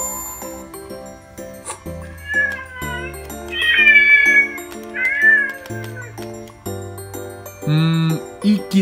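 A cartoon cat in a cute-penguins virtual pet app meows repeatedly in clear, drawn-out cries over soft jingling game music, loud and close.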